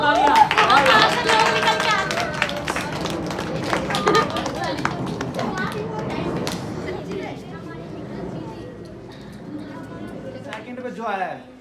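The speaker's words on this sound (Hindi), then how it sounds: "जोरदार तालियां।" Loud applause from a crowd gathered at a Swami Vivekananda programme, dense and sustained across the whole clip, fading a little toward the end, with voices chattering underneath.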